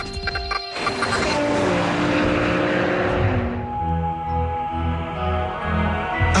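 Two BMW sports cars, an M5 and an M6, drive with a steady, loud engine roar that starts near and stays prominent throughout, with a deeper droning tone settling in during the second half.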